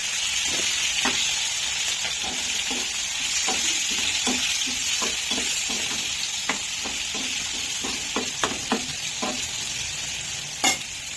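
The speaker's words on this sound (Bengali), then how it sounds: "একটু চিনি দেবো, যাতে পেঁয়াজটা লাল লাল করে ভাজা হয়।" Onions frying in oil with a little sugar for a Bengali egg curry with cashews and raisins, a steady close sizzle broken by repeated scraping stirs of the spoon in the pan, with no talking.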